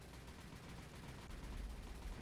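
Rapid gunfire from Wildcat fighters strafing a ship in the naval combat game War on the Sea, a dense, continuous rattle that stays steady with no voices.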